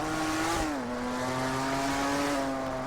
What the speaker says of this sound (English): I love the sound of this car. This car is just such a great sound to it.